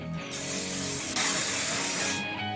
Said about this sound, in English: I will also get to spray